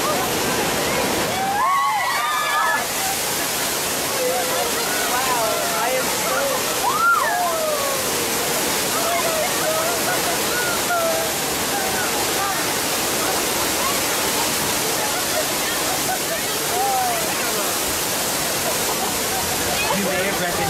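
A simulated burst water main on a Universal Studios tour gushes in a loud, continuous roaring rush of water, with faint voices and shouts over the torrent.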